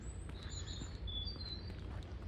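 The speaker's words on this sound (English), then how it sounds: "And birds singing" Small birds sing and chirp beside a quiet canal away from traffic, thin high tweets coming from some distance over a steady low outdoor hum, with no talking.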